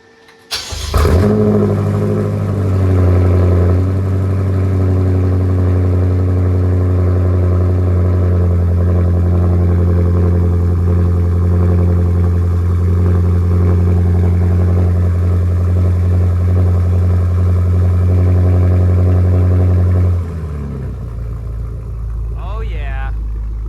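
A BMW F10 M5 with Turner muffler-delete exhaust fires up from cold with a sharp crank and loud bark, then settles into a steady, deep, throaty high idle for about twenty seconds before dropping lower, heard up close.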